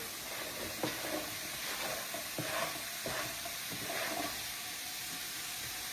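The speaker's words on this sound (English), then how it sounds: "I'm going to add my onion to that and get it going. And I'm going to add my ham." Onion and ham frying in a pot on a stovetop, with a steady close sizzle and hiss broken by several scraping stirs of a utensil along the pot.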